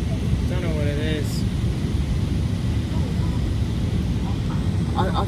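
Airplane at Istanbul Airport, heard from inside an aircraft as a steady low jet roar and rumble. Someone talks over the engine noise, which holds constant without change.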